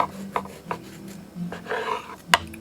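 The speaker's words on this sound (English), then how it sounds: "Let me cut one piece here" A knife cuts through a slice of moist, light banana cake with a few soft scraping strokes, close and fairly quiet, ending in a sharper tap.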